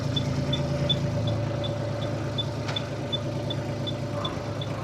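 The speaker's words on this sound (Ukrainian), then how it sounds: "Дуже м'яко і гарно працює двигун." A Japanese MT241 tractor's diesel engine runs steadily at idle close by, a low even chug with a faint, regular ticking on top.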